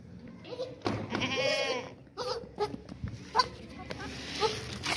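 Young Beetal and Makhi Cheeni goat kids bleat in several short, wavering cries close by, with someone talking over and between the calls.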